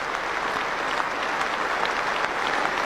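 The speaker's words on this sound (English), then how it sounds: "he walks off to a standing ovation here at Lord's Cricket Ground" A large crowd at Lord's Cricket Ground gives a standing ovation to Inzamam, a continuous roar of distant applause filling the stadium evenly without a break.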